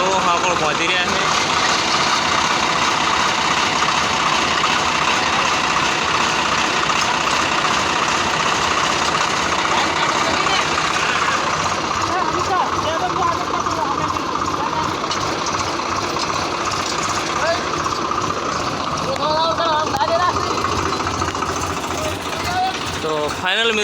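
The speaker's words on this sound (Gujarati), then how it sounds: "બંને ટ્રેક્ટર આવી રહ્યા છે" Two Swaraj tractors straining uphill with a trolley loaded with maize, heavy diesel engines droning loudly and steadily throughout, with people talking over the engine noise.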